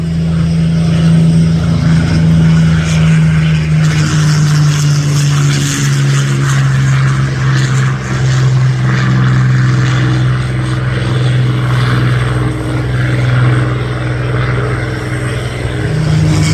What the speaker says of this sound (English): Now the 100 Squadron Spitfire.